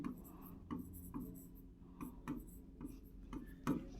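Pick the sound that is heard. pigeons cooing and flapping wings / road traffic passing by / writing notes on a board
writing notes on a board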